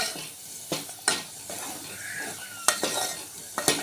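Spice masala frying in oil in a pot for chun vadi bhaji crackles and sizzles up close, broken by sharp clinks and scrapes of a spoon stirring against the metal.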